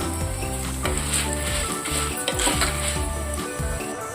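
Red chilies and cumin seeds roasting in a pan for curry leaf spice powder give a steady, dense sizzle with crackling, close and loud, with scraping stirs against the pan and no talk.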